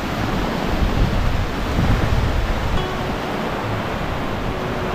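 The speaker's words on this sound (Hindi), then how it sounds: "ये उसका पानी है, देखिए कितना कितना ज़्यादा फोर्स में आ रहा है ये।" Bendewadi waterfall pours down with force, a loud, constant roar of rushing water filling the scene with no breaks.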